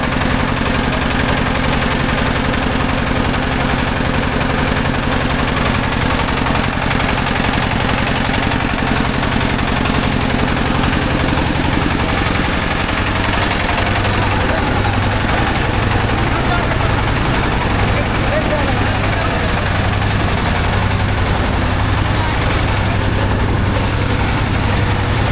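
A Head Fit digital paddy thresher machine from a workshop in Sujapur, Phulbari, Dinajpur runs with a loud, steady mechanical engine drone and low vibrating hum that holds unbroken throughout.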